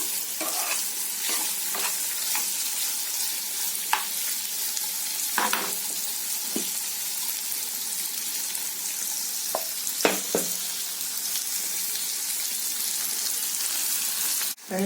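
Paneer pieces fry in oil for palak paneer, a steady close sizzle across the whole stretch, punctuated by scattered scraping stirs of a spoon in the pan, with no talking.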